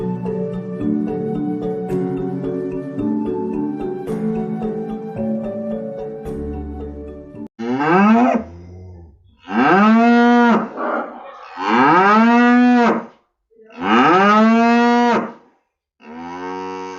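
Cattle moo repeatedly inside a cow barn, with several long, loud calls in close succession following a stretch of music, and no talking.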